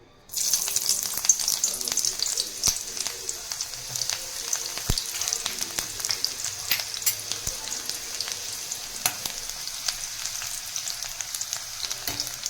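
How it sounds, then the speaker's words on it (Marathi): Finely chopped onion frying in hot oil in a kadhai for a Konkani-style fish rassa, a steady close sizzle running throughout with occasional sharper crackles and pops. "आता थोडासा कलर चेंज होईपर्यंत कांदा भाजून घेते मी."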